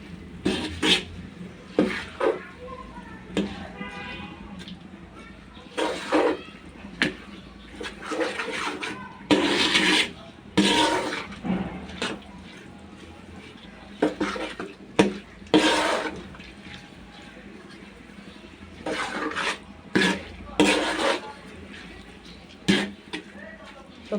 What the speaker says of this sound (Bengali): তো চালটাকে আমি মশলার সাথে ভালোভাবে মিশিয়ে নেব।